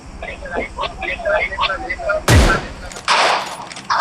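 Gunfire in a battle royale game rings out as a sharp, loud shot that echoes, followed by more bursts of firing. An excited voice talks over steady background game noise.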